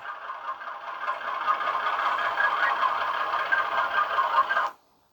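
A Bachmann model six-axle diesel locomotive, fitted with a Zimo sound decoder, builds up revs in a buzzy, rattling engine drone that climbs steadily, then cuts off abruptly near the end. The sound is thin and fairly close, with no speech.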